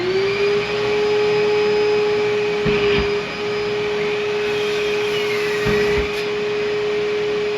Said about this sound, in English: Show you how that saw works with the vacuum.